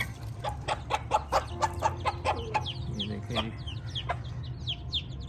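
A hen clucks repeatedly beside young chicks while she feeds them, with soft chick peeps and some background talk mixed in at close range.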